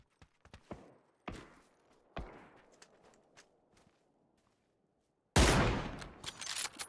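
Distant gunfire from other players in PUBG: scattered sharp single shots and some footsteps-like thuds early on. Then a loud, dense close burst of rapid fire near the end.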